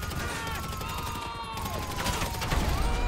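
Rapid gunfire bursts rattle through a GTA V Online shootout mission, overlapping shots and mechanical clatter filling the clip at close range with game ambience underneath.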